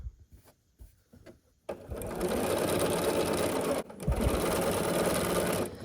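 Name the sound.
sewing machine stitching quilt pieces together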